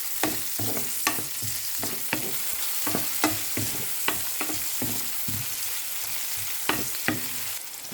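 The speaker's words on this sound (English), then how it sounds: "In a heated pan with vegetable oil, let's sauté the garlic and onion at the same time." Garlic and onion sautéing in hot vegetable oil in a pan for pinakbet, a continuous close sizzle broken by repeated sharp scrapes and knocks of a spoon stirring at an uneven rhythm.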